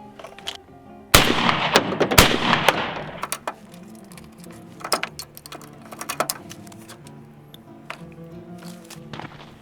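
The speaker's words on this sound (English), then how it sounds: "That was shot number 5, number 6." A shotgun fires a reloaded Winchester Super X shell with one sharp, loud blast that has a short echoing tail. Another sharp crack follows soon after, then scattered clicks and handling noises nearby.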